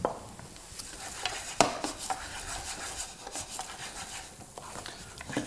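Rice tipped into a pan of browning, softening onions and stirred with a utensil, giving soft scraping and rustling with light pan clatter and one sharper knock, moderately close, no voices.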